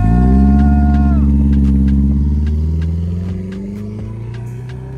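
The world's biggest RC car drives fast, its engine a loud, droning harmonic roar that dips in pitch and then eases off to a lower, steadier hum.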